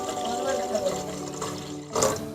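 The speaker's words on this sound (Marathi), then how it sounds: "पाणी टाकूया." Water splashes into a pot for a sweet milk-based dish, a close, steady gurgling pour with a brief louder surge near the end, with no speech.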